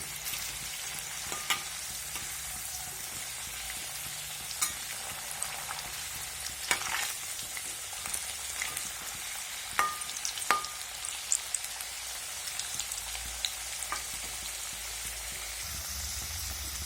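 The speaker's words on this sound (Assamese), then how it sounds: "আলুখিনি অলপ লৰাই দিছোঁ, এটা চাইডে ফ্ৰাই হৈ গৈছে" Potatoes fry in a pan with a constant crackling sizzle like light rain, close by. Scattered clicks and scrapes come from stirring, and no voice is heard.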